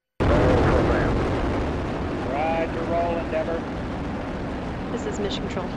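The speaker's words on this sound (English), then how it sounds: "Booster ignition and liftoff of Shuttle Endeavour" Space Shuttle Endeavour lifts off as its boosters ignite. A broad, heavy roar starts suddenly and fills the whole clip, steady and loud. A voice talks over the rumble.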